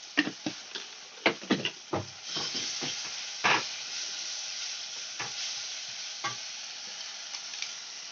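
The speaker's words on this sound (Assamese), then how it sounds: "মছলাখিনি ভালদৰে মানে কেঁচা গোন্ধ নোযোৱালৈকে ভালদৰে ভাজিব লাগিব" Spice masala paste fries in a pan for a home-cooked jackfruit dish, with a continuous sizzling hiss broken by sharp scraping clacks as it is stirred, several quick strokes early on and then occasional ones.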